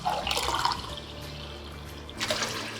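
A glass of water pours into fried mung dal in a pan, a short splashing gush, then a quieter trickle and a second brief splash.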